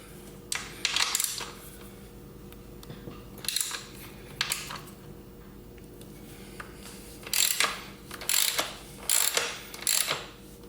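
A hand ratchet works loose a 15 mm nut on a motorcycle, giving short bursts of quiet clicking pawl strokes spaced through the clip over a low steady hum.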